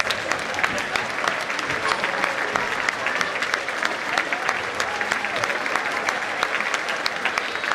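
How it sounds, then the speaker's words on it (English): A school assembly crowd gives sustained, loud applause, with dense clapping filling the whole stretch at an even level. "Stand up and give yourselves a round of applause"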